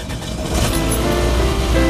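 A car engine fires up and settles into a loud, steady idle with a deep rumble, close by and without voices.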